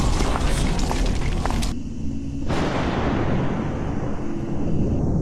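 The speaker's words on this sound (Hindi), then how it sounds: "कमरे में जोर से 2 आवाजें आती हैं, जैसे कोई पटाखे फटे हो।" Two loud bangs like firecrackers in an animated horror story, sharp close blasts with heavy rumbling tails over a dense noisy background.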